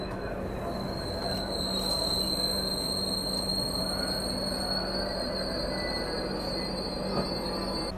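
A train rolls into Bareilly Junction station in India on a cold morning, wheels squealing steadily against the rails with high sustained screeching tones over a constant low rumble, close and continuous without talk.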